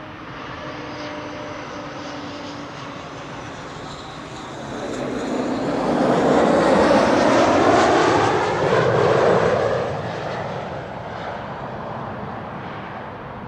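An airplane approaching Amsterdam Schiphol Airport on a breezy day, its engine roar swelling from a distant rumble to a loud close pass over several seconds, then fading back into steady background wind noise.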